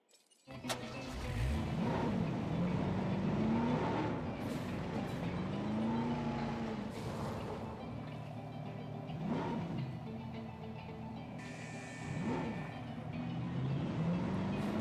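A ranger vehicle in the Jurassic World Evolution game drives toward a feeding station. Its engine hums steadily and fairly loudly, rising and falling in pitch as it speeds up and shifts. Faint electronic tones sit underneath.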